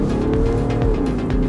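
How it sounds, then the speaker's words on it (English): Tuned BMW 540d diesel, making about 380 horsepower, accelerating on the Autobahn: a steady, loud engine drone with rising harmonics and constant road and wind roar, with no talk. "back on the road in the tuned 540D with now around 380 horsepower"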